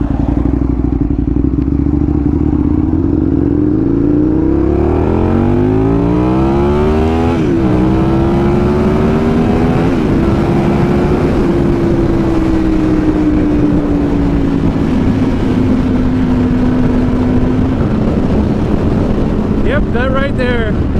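An Aprilia RSV 1000R motorcycle engine runs close and loud for a long stretch, its tone climbing as the revs rise, then dipping and swelling again with a brief blip partway through.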